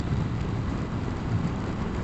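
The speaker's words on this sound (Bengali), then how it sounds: "বৃষ্টি হচ্ছে, রাস্তা একদম একদম ভিজা" Rain falling on a soaked road during a ride, a steady broadband wash with low rumble from wind, continuous and fairly loud with no talk.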